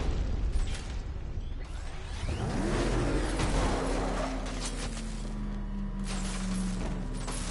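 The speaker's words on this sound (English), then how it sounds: "I see you're back in the car, Master Bruce" The Batmobile driving in the Batman Arkham Knight video game, a steady loud engine drone with whooshes and a rising whine midway, mixed with bursts and mechanical clatter.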